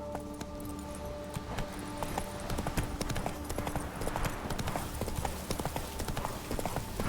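Roach the horse's hooves clip-clopping steadily in The Witcher 3, a brisk rhythmic trot of close, crisp hoofbeats over a low game ambience with faint tonal music.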